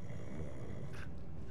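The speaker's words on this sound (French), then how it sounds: "Il dort, il ronfle." A sleeping goblin snores in the Hogwarts Legacy video game, a low rumbling breath heard up close and quietly, with a brief airy rasp partway through.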